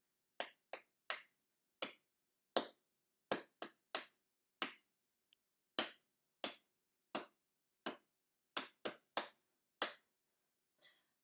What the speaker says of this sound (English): So I'm going to clap the rhythm first of all.